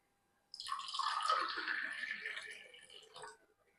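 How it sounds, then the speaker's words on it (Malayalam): Freshly strained cucumber lime juice is poured into a glass in a kitchen, making one close, continuous liquid pour that lasts about three seconds and then trails off. "കക്കരി ലൈം ഇവിടെ റെഡി ആയിട്ടുണ്ട് നമുക്കിതൊരു ഗ്ലാസ്സിലേക്ക് ഒഴിക്കാം"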